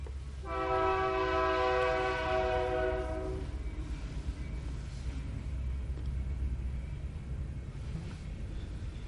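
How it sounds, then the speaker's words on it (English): A passing train sounds a loud, sustained multi-tone horn for about three seconds, then rolls on as a steady, low rumble of wheels and cars that keeps on to the end. "let's just pause a minute while the train comes by"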